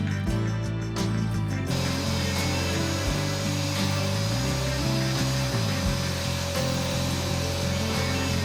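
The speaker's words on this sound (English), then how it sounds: "The next thing that I did was vacuumed it with my vacuum cleaner" A vacuum cleaner runs over a thrifted green velvet sofa with a loud, steady motor drone whose pitch shifts slightly as the nozzle drags across the upholstery, continuous and close, without talk.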